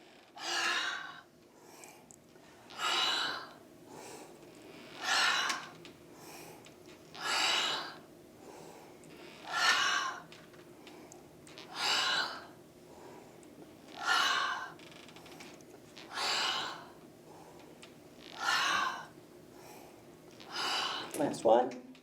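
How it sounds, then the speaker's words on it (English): Slow, deep breaths during a seated chair yoga class, about ten long airy inhales and exhales repeating at a steady pace of roughly every two seconds, close and clear against a quiet room. "Nice deep breaths."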